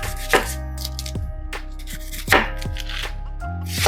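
Collard greens rough-chopped with a knife on a cutting board, several firm, evenly spaced chops close up, with no talk.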